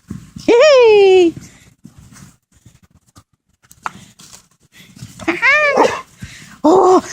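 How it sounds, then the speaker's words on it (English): A playful dog gives a few sharp, loud barks close by in the snow, with quiet gaps between them. "Oh, don't bark at her."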